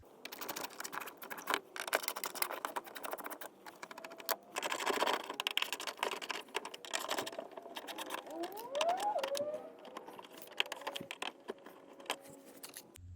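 Small T15 screws being backed out of a C6 Corvette fender liner, with rapid metallic ratcheting clicks and rattles close up, some brief whirring bursts, and light handling noise between them.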